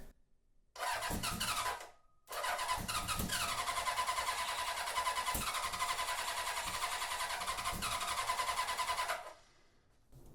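A rebuilt Honda CB750 motorcycle engine cranks on its starter, a steady mechanical whirring that runs loud and close, stops briefly, then resumes for several seconds before cutting off.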